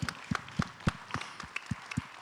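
Sparse, slow clapping from a talk-show audience thanking the panelists, individual claps landing at a loose, uneven rhythm in a quiet room.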